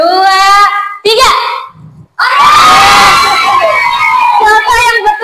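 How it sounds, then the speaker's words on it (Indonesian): Schoolchildren in a primary classroom burst into loud shouting and cheering of hooray, several short excited group shouts followed by a longer sustained crowd cheer close by. "Nanti kamu teriak hore kalau jawaban kamu benar ya."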